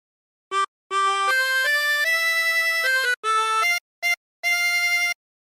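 Harmonica playing the opening phrase of Home on the Range, clear single reedy notes, some held and some short, with brief gaps between them, close and alone.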